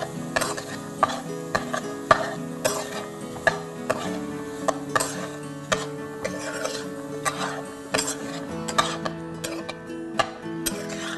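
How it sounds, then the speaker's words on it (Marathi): Vegetables being stirred into a coconut and green chilli paste in a pan for aviyal, with a steady run of close scraping and clinking of the spoon against the vessel, repeated every second or so, no talking. "वाटपामध्ये भाजी छानसह कोट करून घ्यायची आहे."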